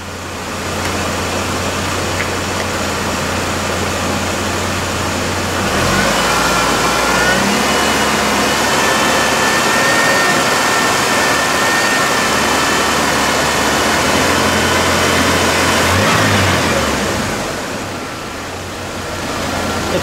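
A 2001 GMC Sonoma pickup with a replacement 2.2L engine runs loudly on a test drive, a sustained engine drone that shifts in pitch as it revs and settles, with no talk.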